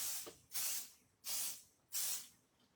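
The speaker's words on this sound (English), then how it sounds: "Let me just spray." Spray paint hisses onto a multi-layer rose stencil on a jean jacket in three short, close bursts, each about half a second long, separated by brief pauses.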